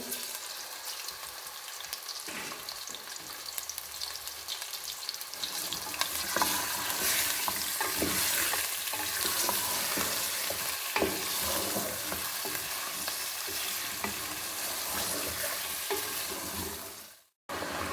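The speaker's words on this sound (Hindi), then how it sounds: "अब हम इसमें डालने लगे हैं 1 केजी चिकन। इसको कर लेते हैं हम 5 मिनट के लिए फ्राई।" About 1 kg of chicken fries in hot oil with a continuous, loud sizzle that intensifies partway through, broken by occasional stirring scrapes, with no voices.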